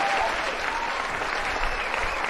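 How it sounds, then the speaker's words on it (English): Sustained clapping from a group of people, even and continuous across the whole stretch, fairly loud with a faint murmur of voices beneath. "There's applause going on right now, so I can't hear you"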